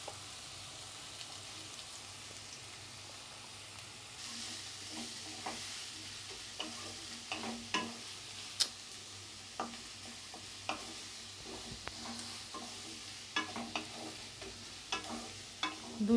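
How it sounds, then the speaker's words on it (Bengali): Chopped onions and chilies fry in a pan over lowered gas, giving a soft, even sizzle broken by frequent light scrapes and taps of a spatula as they are stirred, close and without talk. "দু চার মিনিট ভালো করে ভাজতে থাকতে হবে।"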